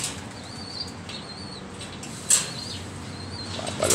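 Pigeons released for a loft fly flap their wings as a faint, fluttery rustle under a hushed outdoor background, with a sharper burst of flapping midway and another near the end.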